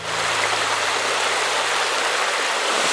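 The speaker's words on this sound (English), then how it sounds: "out the back of it is a waterfall" Steady close rush of falling water at Hardraw Force in the Yorkshire Dales, a broad continuous roar with a faint low hum beneath, unbroken throughout.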